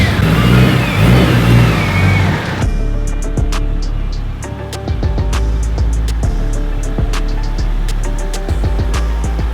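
A turbocharged Honda Civic Si out on a drive, its mid-pitched engine revving and pulling through the gears, with sharp clicks and clatter from inside the cabin over a steady road rumble.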